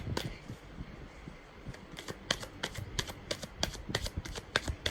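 Tarot cards being shuffled and drawn, a quick series of crisp riffling snaps and flicks, close and soft, with quiet gaps between bursts.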